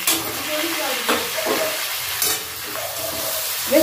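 Tomato, green chili, red chili powder and spices fry and sizzle in a pan as they are stirred for a fish chorchori, giving a continuous close hiss broken by scraping strokes.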